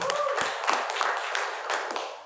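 A seminar audience claps briefly, with a few scattered, uneven hand claps and taps at close range and a hint of voice underneath.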